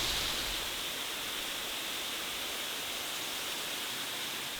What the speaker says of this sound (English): The calming sounds of the waterfall made this a perfect sunny spot for a lunch break